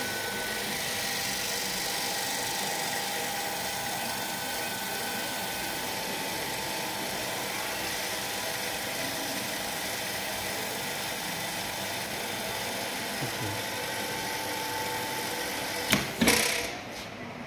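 A three-phase induction motor runs steadily under increasing load, a continuous mechanical hum with a faint whine, ending in a short clunk or click near the end as it is switched off.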